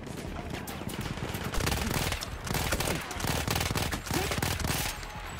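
Rapid automatic gunfire from Battlefield 1, dense overlapping bursts of shots that run almost nonstop for several seconds, loud and close with a faint voice in the mix.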